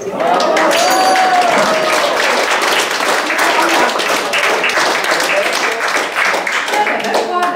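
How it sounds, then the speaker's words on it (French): Sustained applause from a crowd of seniors at a dinner during an annual seniors' camp in Val-de-Travers, dense and steady clapping filling the room for several seconds with a few voices mixed in. "On va l'applaudir"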